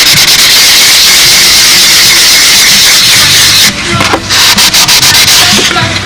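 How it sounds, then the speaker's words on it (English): Close, loud sanding of wood on a model airplane wing, a continuous rough hiss that breaks into short rhythmic rubbing strokes toward the end. "I'm going to sand the rest of this in"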